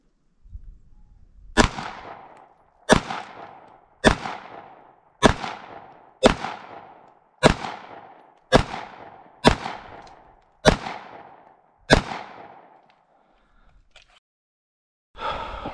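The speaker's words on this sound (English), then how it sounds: "Okay, everyone, shooting the CZ SP-01." A CZ SP-01 pistol fires ten loud, sharp shots at an outdoor range with targets at 10 yards, spaced evenly at a steady slow rhythm, each with a short ringing decay, and no talk between them.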